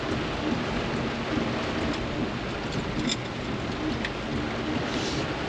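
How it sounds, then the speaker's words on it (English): Heavy rain pours steadily on a lakefront property, a dense continuous hiss with soft low rumbles of thunder and occasional faint bird calls, no voices. "We don't get rains like this"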